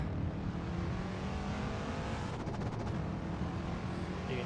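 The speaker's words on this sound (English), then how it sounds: "hear the Indian bus driver's V8 engine and the gearbox having to be over-revved almost before actually making the shift up" A V8 race car engine in a racing video game at the Jerez circuit drones loudly and continuously, with a brief shift-like break in the middle of the steady roar.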